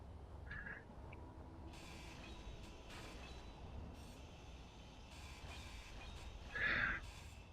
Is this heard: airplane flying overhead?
no